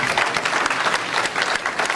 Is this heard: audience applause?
yes